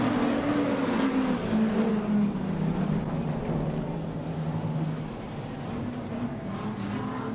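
Street stock race cars on an oval track at Adelaide Motorsport Park roar out of turn four in a loud, steady engine drone that rises and falls slightly as the pack accelerates away, no voices.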